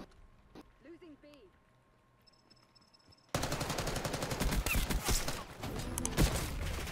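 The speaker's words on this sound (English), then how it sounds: "That's a shotgun." Shotgun blasts and other gunfire from a Call of Duty Black Ops 6 multiplayer match burst in loud and dense after a quiet stretch, with a voice speaking faintly before the shooting begins.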